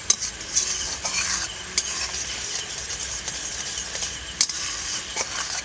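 Sugar syrup boiling in a pot for semolina motichoor laddu, stirred with a utensil: soft bubbling hiss broken by irregular scraping clicks, close and moderately loud, with no voices.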